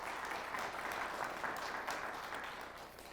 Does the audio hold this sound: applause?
yes